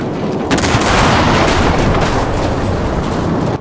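Gunfire in the WW2 shooter game Enlisted bursts in a dense, loud barrage of overlapping shots and booming blasts, continuous for a few seconds with no voices.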